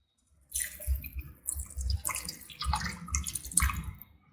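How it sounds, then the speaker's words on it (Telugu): Water splashes and gurgles into a pot of mutton curry with chana dal, in several irregular pours over a few seconds, close and moderately loud with no voices. "ఇప్పుడు మనం చక్కగా ముక్క ములిగేలాగా వాటర్ యాడ్ చేసుకోండి."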